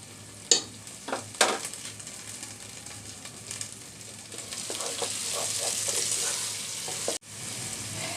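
Pulao rice for egg biryani frying in a pan with salt, a steady sizzle that swells louder, broken by several close spoon clinks and stirring scrapes.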